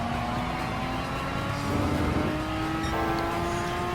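The engine of a 2016 Porsche Cayman GT4 holds a steady, loud, high drone on the Nürburgring GP circuit in Gran Turismo 7, its pitch climbing as it revs and then shifting up after a gear change.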